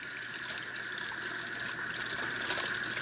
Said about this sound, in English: So you want tepid water out of the tap.